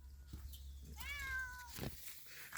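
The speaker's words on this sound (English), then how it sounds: "Oh, a cat." A single drawn-out cat meow, fairly close, rising and falling over about a second amid quiet background.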